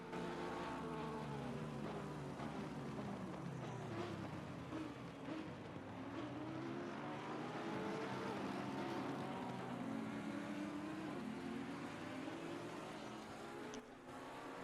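Race cars in a sim racing endurance event at the Nürburgring, including an Aston Martin and a McLaren, roar steadily with engine tones rising and falling as they pass, loud and continuous with no talk.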